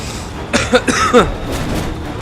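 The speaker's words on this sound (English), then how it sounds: "Excuse my coughing." Coughing from a respiratory infection, a short burst of several close, harsh coughs in quick succession, followed by quieter breathy sounds.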